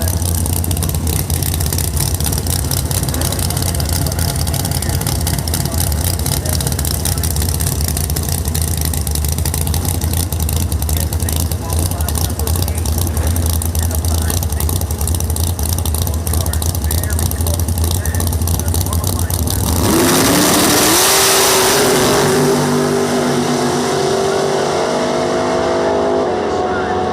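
Drag racing cars, including a '55 Chevy, rumble and idle loudly at the start line of a drag strip under a track announcer's talk, then one car launches hard with a sudden roaring burst of engine noise.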